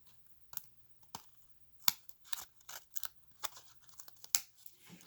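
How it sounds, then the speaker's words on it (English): Scissors trim paper for a handmade card with a series of crisp, close snips and cuts at irregular intervals, with light paper rustling between them in an otherwise quiet room. "Just coming in with my scissors and trimming that off on both sides"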